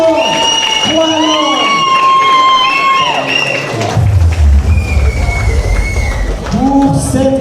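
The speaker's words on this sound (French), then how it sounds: "faites les applaudissements" A boxing gala crowd in Montreal cheers and shouts in rising whoops, with a burst of clapping and noisy hubbub swelling in the middle before the cheers trail on.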